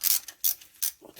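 Ratchet loosening brake bolts on a Yanmar YM186D tractor, three quick bursts of sharp metallic clicking close by, followed by a short softer mechanical sound.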